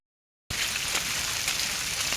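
Rain falling hard and steady, a close, dense hiss of drops pattering on surfaces that begins suddenly after a brief silence and continues evenly, with no voices.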